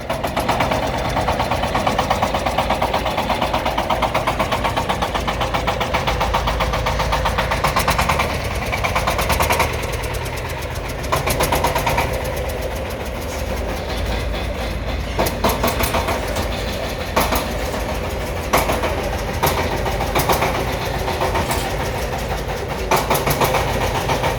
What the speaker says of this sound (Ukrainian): Навантажений тракторець Шифен 354, повнопривідний на 35 кінських сил